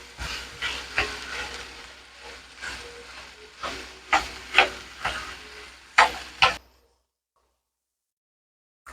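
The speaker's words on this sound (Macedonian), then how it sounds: "Следно го додаваме меленото месо и мешаме постојано." Minced meat frying in a pan, sizzling steadily and stirred constantly with a spoon, with repeated scraping strokes at irregular intervals before everything falls silent.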